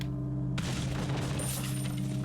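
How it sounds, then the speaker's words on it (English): Dynamite blows up in a video game with one sudden, loud blast that rolls into a dense crackling rumble and fills the whole short moment. "as long as you shoot the dynamite, like, even if it's like right up into your face, the explosion hitbox just teleports to him"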